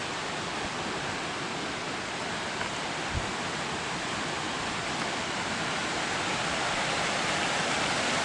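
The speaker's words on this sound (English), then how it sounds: "You can hear the falls and see through the woods right there some of the creek splashing." Waterfall and splashing creek in the Rabun County, Georgia woods, a steady broadband rush of falling water that holds constant throughout with no voices.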